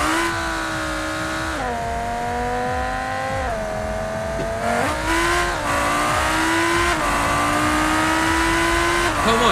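A Lamborghini Huracan accelerates hard in the BeamNG Drive driving game, its engine note climbing steadily through several gear shifts, loud and close, with a brief tire squeal and no talk.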